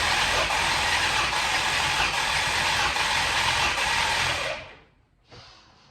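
A Ford Galaxie engine cranks over with a loud, continuous rough whirring drone that runs for several seconds, then cuts off abruptly, followed by a brief quieter burst.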